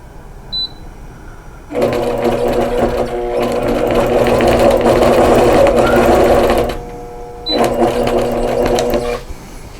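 An APQS longarm quilting machine sewing elastic onto a fabric face mask, running in two loud steady mechanical runs with a short pause between them, close and alone.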